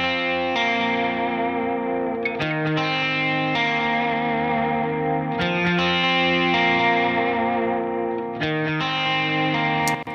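Electric guitars run through the Strymon Deco tape saturation plugin, playing sustained, thick, harmonically rich chords with a warm tape grit. They are loud and continuous, with a few brief breaks between phrases and no talking.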